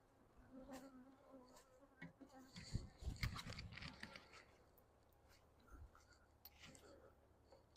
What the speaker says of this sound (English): I got a bee that's not happy with me already